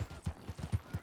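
Quick, even horse hoofbeats in Red Dead Redemption 2 clip-clop in a steady rhythm, soft and close, with no voices.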